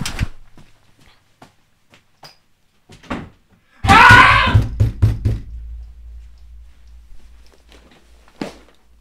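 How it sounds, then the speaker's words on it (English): Someone bangs hard on the walls of a house, a cluster of loud, close thuds and knocks, with a shout mixed in among them and scattered lighter knocks before and after. "you can hear it if I go bang on the walls and ask for help."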